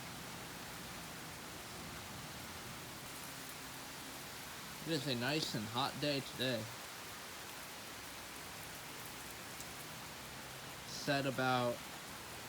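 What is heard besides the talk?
heavy afternoon thunderstorm rain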